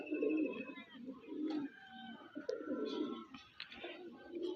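Andra pigeons coo in soft, low, repeated rolls close by, with a few brief higher chirps mixed in, and no talking.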